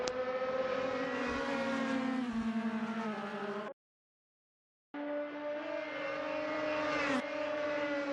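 Race cars at Hockenheim in a DTM racing game, Mercedes against Audi: steady high-pitched engine whine at full throttle, broken by a second-long gap of silence, then resuming with a rising rev near the end.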